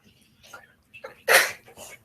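A child sneezes in a classroom during a lesson, one sharp, breathy burst preceded by soft murmured voices and a quick intake, fairly close and brief.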